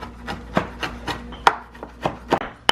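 A knife chops on a board in a loose, steady rhythm, about a dozen crisp close knocks with short pauses between them, while preparing pemmican.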